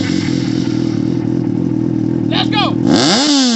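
A Yamaha FZ-series motorcycle exhaust idles loudly and steadily, then blips in a few quick revs near the end, with people's voices briefly audible over it.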